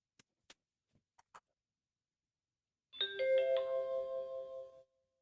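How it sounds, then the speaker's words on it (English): Startup chime of a HOTPEAK 9-inch portable CarPlay car display booting up: a few faint clicks, then a clear multi-note electronic chime ringing out for about two seconds before stopping cleanly. "The chime is exactly the same as what we've experienced with some other portable displays."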